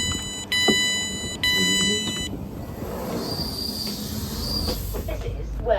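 A Class 444 Desiro electric train at Wareham station begins with a loud tonal chime, then gives way to a low rolling rumble and a faint high whine as it moves along the platform.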